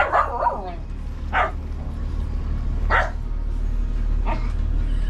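Several sharp dog barks and yips come in spaced bursts over a constant low rumble, close and fairly loud.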